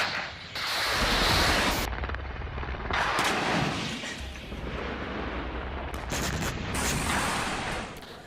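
A Ukrainian military helicopter attacks Russian front-line positions, with loud, booming bursts of fire and explosions rumbling in waves throughout and no speech.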